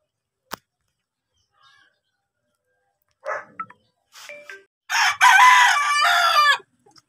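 At a backyard chicken coop in the province, a rooster lets out a loud, close crow after a few scattered clucks and a sharp tap, with hens faintly audible in an otherwise quiet yard.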